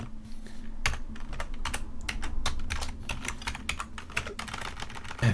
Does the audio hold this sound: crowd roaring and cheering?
no